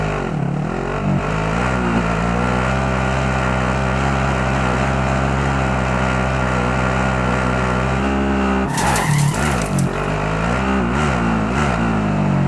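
A car is driven in Call of Duty Warzone, its engine droning loud and steady close by. The pitch shifts a little, and a sharp burst of noise breaks in near the end.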